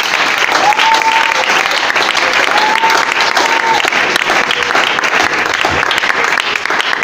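An audience at a Christian church gathering breaks into sustained loud applause with cheering and shouts, a dense continuous wall of clapping from start to finish with a few voices rising through it.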